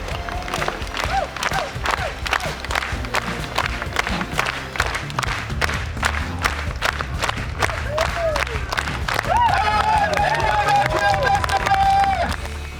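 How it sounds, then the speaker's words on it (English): A street festival crowd at Victoria's Busker's Fest keeps up a steady, rhythmic clap-along for a fire juggling unicycle finale, with crowd noise and voices throughout and a brief whistle-like tone near the end. "Let's get a clap on."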